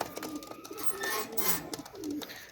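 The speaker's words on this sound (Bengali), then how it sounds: "এই যে এক সেট কামাগার কবুতরের বাচ্চা" Kamagar pigeon chicks make soft cooing and fluttery calls, a few short close sounds over quiet background.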